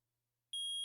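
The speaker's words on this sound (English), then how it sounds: "Beep, beep, beep. Well, it's beeping." An electronic metal detector in the Phoenix Wright: Ace Attorney courtroom game gives a loud, steady high-pitched beep that starts suddenly midway after near-silence.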